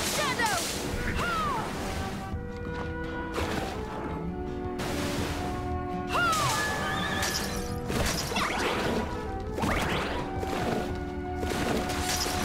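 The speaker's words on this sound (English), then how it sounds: "Just stay away from this horse." A horse whinnies repeatedly in the video game Bloodstained: Ritual of the Night, its rising and falling calls recurring every few seconds over a dense, loud game soundscape with crashing and layered background noise.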